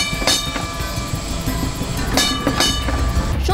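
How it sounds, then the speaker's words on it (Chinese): A double-decker tram runs along a busy Hong Kong street, its steady metallic rumble punctuated by a few sharp rail clacks and ringing tones over continuous street noise. "双层轨道电车在热闹街道中穿梭，叮叮声此起彼落"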